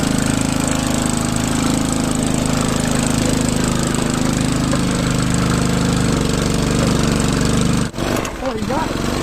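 A small Chinese-made mini tractor bought online, its engine droning steadily and loudly as it ramps up and crosses a creek, then cutting abruptly near the end, with a few voices afterward.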